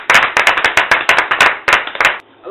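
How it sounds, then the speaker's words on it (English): An audience at a voice-over talent event gives a round of applause, loud, crisp claps landing in a quick, regular rhythm before stopping abruptly near the end. "A round of applause."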